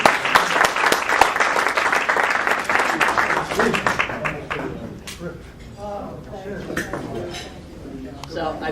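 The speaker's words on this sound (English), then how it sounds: "Big round of applause." Crowd at a Democratic rally in Bridgewater, New Jersey, breaking into loud, dense applause that gradually thins into scattered claps, with voices murmuring underneath as it fades.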